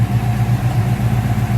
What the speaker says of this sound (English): the engine runs smoothly.